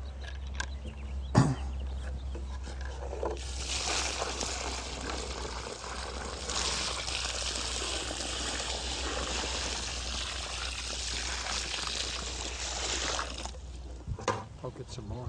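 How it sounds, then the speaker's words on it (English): Water poured from a container into a deep planting hole for a tree, a broad steady gushing rush lasting about ten seconds outdoors, with people talking around it. "let's just go ahead and pour it on here"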